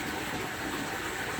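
Water runs steadily and continuously during a water change on a 220-gallon aquarium, a broadband rushing pour with no speech over it.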